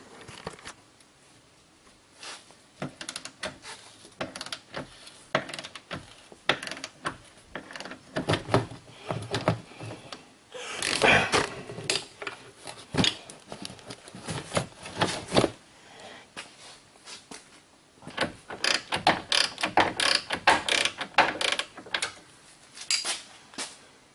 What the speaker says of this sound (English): We'll get the nuts loosened up and we'll go from there.